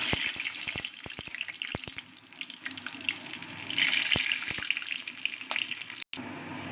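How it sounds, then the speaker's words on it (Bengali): Whole garam masala and bay leaves tempering in hot oil, a close steady sizzle with sharp crackles and a brief cut near the end. "এবার আমি গোটা গরম মশলা, তেজপাতা ফোড়ন দিয়ে দেবো।"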